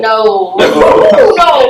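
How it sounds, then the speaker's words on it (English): A dog gives a short, loud run of yelping barks and whines close by, followed by a person talking over a few more faint dog noises. "That's my dog"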